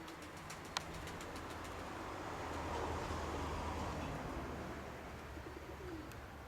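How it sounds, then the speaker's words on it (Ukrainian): Soft pigeon cooing blends into a steady outdoor murmur, with a few faint clicks early on and no clear voices. "Голуби якраз вже покормлені легенько."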